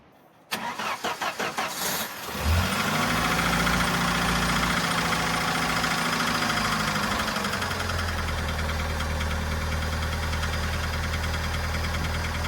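A Dodge Dakota engine cranks in several quick bursts, fires and settles into a loud, steady cold idle with a faint, slight lifter tapping running through it, close by and without talk.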